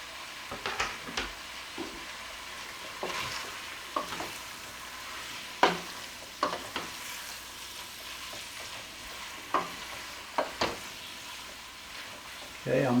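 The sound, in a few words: hamburger meat and chopped onion browning in pot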